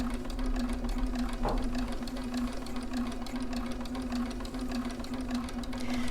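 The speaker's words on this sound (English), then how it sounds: "So we're just going to go and stitch our way round." A sewing machine stitches slowly around a large 8.5-inch fabric circle, running in a steady continuous mechanical hum with a fast rhythmic needle chatter, close and without talk.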